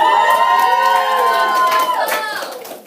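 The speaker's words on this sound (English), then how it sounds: "Round of applause." School crowd cheering and clapping for a Teacher of the Year nominee, with high excited shouts and whoops over scattered applause, loud and lively, fading toward the end.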